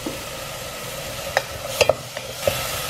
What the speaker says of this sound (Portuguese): eu fritei o meu alho, eu vou vir com a minha cebola